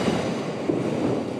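A train rolling past near a station, a steady low rumble and rolling rail noise at moderate distance, continuous with no talk.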